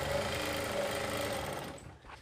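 A sewing machine stitches a pant hem, a close, steady mechanical buzz and whir running continuously before slowing and stopping near the end.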